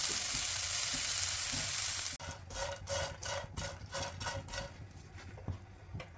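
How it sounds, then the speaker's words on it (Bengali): Oil sizzles steadily as dried fish fries crisp in a pan, then a utensil scrapes and stirs in quick rhythmic strokes over the continuing crackle of frying. "আমার শুটকি ভাজা হয়ে গেল"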